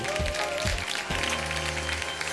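A studio audience at a Swiss comedy show claps and cheers to welcome comedian Martina Hügi on stage, a dense, loud wash of applause filling the short moment without pause.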